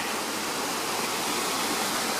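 Waterfall at Turning Point Park, a steady broad rushing hiss of falling water, unbroken and fairly distant, with no voices.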